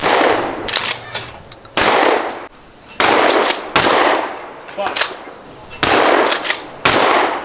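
Outdoor clay shooting with shotguns: about seven loud, sharp shotgun blasts spaced roughly a second apart, each followed by a short ringing decay.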